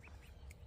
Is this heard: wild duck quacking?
yes